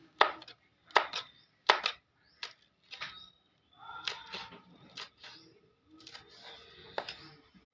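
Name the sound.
chopping green chillies for an omelette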